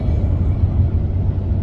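Low, steady engine drone and road rumble inside a moving car on a long drive, a constant deep hum with no voices.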